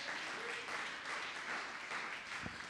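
A church congregation applauding the Lord during an evangelist's sermon, steady faint clapping throughout.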